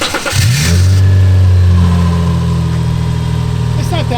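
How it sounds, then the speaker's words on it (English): A Subaru Outback 3.6R engine with a new Walker Quiet Flow muffler and 260k miles revs up loudly, then settles into a deep, steady, throaty drone with a strong low rumble, close by. "this is what the car sounds like now."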